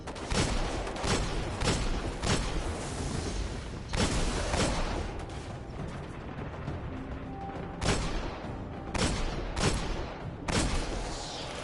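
A hand cannon fires in a video game, with loud booming shots in rapid clusters of three or four separated by short pauses, over a dense, noisy game backdrop.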